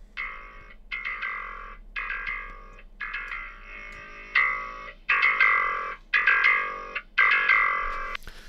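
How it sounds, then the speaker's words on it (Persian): Bass guitar notes played through a heavy distortion effect, saturated and gritty with boosted treble, sound as eight evenly spaced sustained notes, each about a second long and cut off sharply, loud and alone. "میبینین کامل سچورت شده است، کامل افکت دیستورشن بهش اضافه شده"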